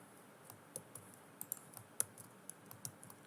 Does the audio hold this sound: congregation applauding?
no